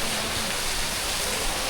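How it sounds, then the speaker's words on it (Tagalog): Heavy rain pours during a typhoon in Albay, Bicol, a dense, steady hiss of falling water filling the whole stretch, with a brief bump at the end. "Lakas ng ulan."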